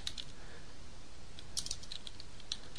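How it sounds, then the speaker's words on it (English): A website name being typed on a computer keyboard: quiet, irregular key clicks in small bursts, faint and close, with no talking. "we'll type our website name instead of this one that it's got in there"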